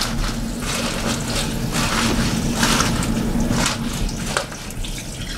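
Tap water runs steadily and loudly into a sink over pots holding yellow onion skins, a close, continuous rushing wash with slight shifts in flow.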